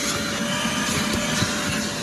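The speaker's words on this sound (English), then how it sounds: "Vacuum his car." Vacuum cleaner running steadily while cleaning out the inside of a car, a loud continuous whine and rushing airflow with small thumps as the nozzle moves, no talking.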